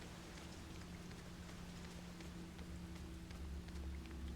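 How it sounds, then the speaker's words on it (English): Rain falling in the video game Project Zero 5 (Maiden of Black Water), a soft, steady patter of raindrops with a low constant hum beneath, continuous and quiet with no talking. "It's raining, man."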